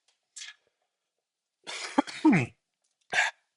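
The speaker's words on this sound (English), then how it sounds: "I was holding in this cough for so long." A few short coughs separated by silence: one small cough, then a longer throaty burst with a rough vocal edge, and a final quick cough.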